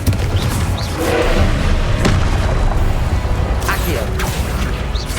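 A Confringo spell explodes in Hogwarts Legacy with a loud booming thud inside a dense, noisy magical duel, and spoken voices are mixed through the clash.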